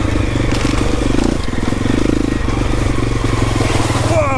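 A four-stroke enduro motorcycle engine drones steadily and loudly up close as the bike churns through deep flooded puddles on a trail, with water splashing and clattering over the continuous engine note.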